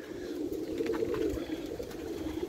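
Pigeons coo softly in a steady low murmur through the whole stretch, a faint continuous cooing at a loft with no one talking.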